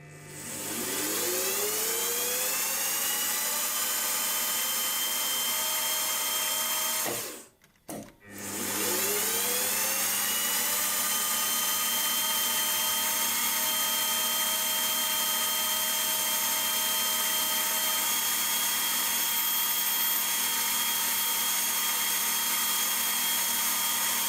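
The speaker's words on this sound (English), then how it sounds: "all I need to do now on the mill is to drill a hole right through" A milling machine drills a hole through a small metal part for a hit-and-miss engine fuel mixer, a steady high whine with rising tones as it spins up, a brief stop and restart partway through, then a constant run.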